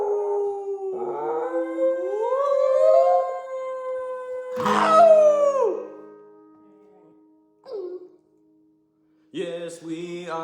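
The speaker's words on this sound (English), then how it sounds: "She likes to sing along, 'cause she's a funny dog." A dog howls along with a person singing, long wavering howls rising and falling, with a short break of quiet before the voices return.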